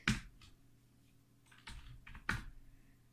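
A few separate keystrokes on a computer keyboard while code is entered, soft, close clicks spaced irregularly with quiet gaps between them and no talk.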